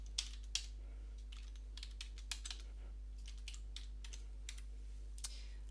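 Keystrokes on a computer keyboard as an ID is entered into a software form, a quiet run of irregular clicks with short pauses over a steady electrical hum, no voices.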